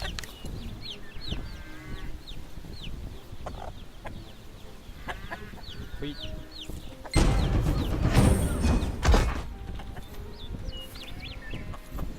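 Chickens clucking in a coop in Lost Ark: scattered short clucks and squawks throughout, with a louder crash of noise and flapping in the middle before the clucking resumes.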